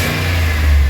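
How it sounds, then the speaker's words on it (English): A Chevy Express van engine runs steadily and loudly at close range, a smooth low idle with a slight swell in revs toward the end, and no voices. "just looking at the engine, it seems to be smoother as it's sitting there idling"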